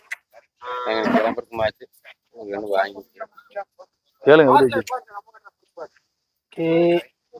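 Several loud moos from Kangayam cattle close by, tied in the sun at the Kannapuram chariot festival, separated by pauses, with a few scattered voices speaking between the calls.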